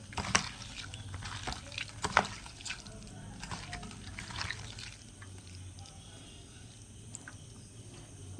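Wet onion pakora batter made with gram flour is mixed by hand, giving soft squelching and sloppy wet slaps in short irregular bursts, clearer at first and then quieter, with no speech.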